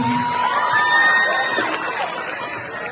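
A Women's Day gathering's audience cheers and shouts for the winner, a loud, excited crowd roar with high whoops and voices, sustained throughout and fading slightly toward the end.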